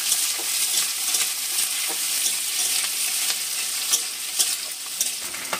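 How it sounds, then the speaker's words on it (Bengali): Onion and capsicum frying together in hot oil for chilli pasta, a steady close sizzle with occasional stirring scrapes, no voices. "পেঁয়াজ ক্যাপসিকাম সব আমি একসাথে দিয়ে দিচ্ছি তেলের মধ্যে সবকটা, দিয়ে ভালো করে একটু ভেজে নেবো।"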